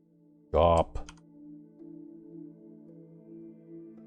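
Quick burst of computer keyboard typing as a console command is entered in Fallout 4, a brief close clatter of keystrokes followed by a steady low hum.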